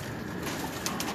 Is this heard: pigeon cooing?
yes